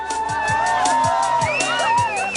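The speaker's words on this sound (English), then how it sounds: "The spirit of Camel Trophy is shown when the other teams come out to cheer the last place team over the line." Members of rival Camel Trophy 1997 teams in Mongolia cheer and whoop as the last-place team crosses the finish line, a loud, steady crowd of overlapping shouts and calls.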